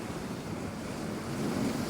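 Heavy sea swells and surf roll steadily at Hopton on Sea near Great Yarmouth on a stormy coast, a continuous broad wash of waves mixed with wind buffeting the microphone, swelling slightly louder toward the end.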